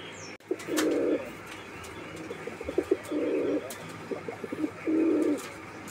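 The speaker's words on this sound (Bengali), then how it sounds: "আপনারা কবুতরটার ডাক দেখলেন, আমরা ডাক দেখাই দিলাম আপনাদেরকে" A fancy pigeon coos in three long, loud, steady bursts, each about half a second, with short soft chirps between them. Faint room noise sits underneath, and no one speaks.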